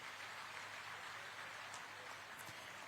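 An audience at a Jharkhand government ceremony where the chief minister hands appointment letters to newly hired teachers claps steadily throughout, a dense, even patter heard from a distance with no talk.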